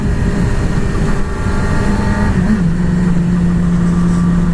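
A 2020 Yamaha R6 sportbike engine pulls away under acceleration. A loud, continuous engine drone rises in pitch, mixed with strong wind rush and no voices.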